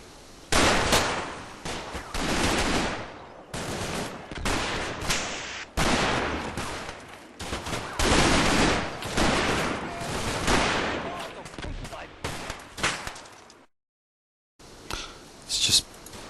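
A machine gun team opens fire in the video game Combat Mission, set in the Market Garden campaign: long, loud bursts of rapid automatic fire repeat with short pauses, broken once by a moment of complete silence.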